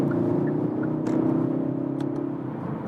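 A 2020 Kia Ceed GT engine in sport mode at motorway speed gives a steady, mid-loud drone with a slight swell near the middle as the gear is shifted back.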